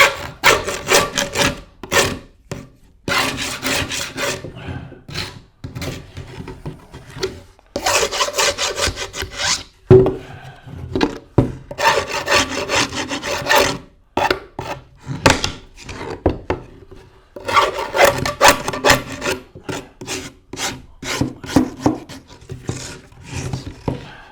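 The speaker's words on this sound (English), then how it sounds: "I'm going to use the rasp to clean up these cuts where the splinters are." A hand rasp filing splintered cuts on wood, close rough rubbing strokes in bursts of rapid back-and-forth scraping separated by short pauses.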